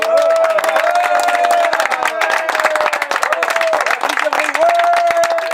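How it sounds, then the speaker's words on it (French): Audience at a gliding club in Puivert applauding a pilot's first solo flight: dense, loud clapping with cheers and whoops, and voices and a tonal whistle-like sound running through it. "aujourd'hui, on va commencer par applaudir"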